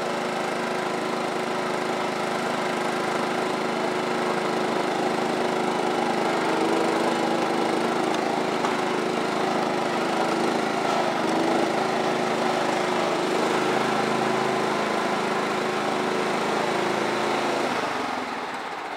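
A 2000 John Deere GT225 lawn mower with a 42-inch deck running steadily, its small engine droning at a constant idle for the whole stretch before dropping off near the end, with no voices.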